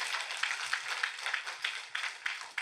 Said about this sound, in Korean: 우리 하나님께 박수를 영광 돌리시기 바랍니다.